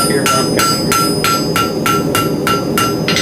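Blacksmith's hammer strikes hot steel at a steady rhythm while forging a round taper, about eight loud, ringing blows close by with no talking.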